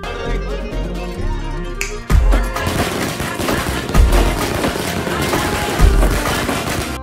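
A string of firecrackers bursts during Diwali, starting with a heavy bang and breaking into a loud, rapid crackling chain of pops that runs nonstop, with a few deeper blasts scattered through it.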